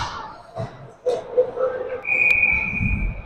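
A referee's whistle at a youth u13 elite ice hockey game sounds as one sustained shrill blast over arena crowd noise, fairly loud and held for about a second.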